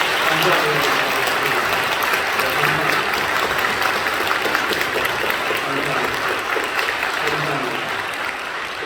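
Congregation applauding in a church during a Sunday service scholarship presentation to a young man, a broad, continuous wash of clapping with a faint low tone and murmuring voices underneath.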